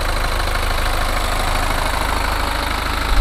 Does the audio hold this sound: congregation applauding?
no